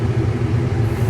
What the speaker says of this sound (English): Excuse the noise, I have the air conditioning on